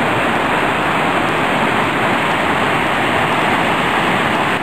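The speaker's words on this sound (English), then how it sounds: "Nice river, wild." A wild mountain river near Pitarque rushes in a dense, constant roar of turbulent water, loud and close throughout with no voices.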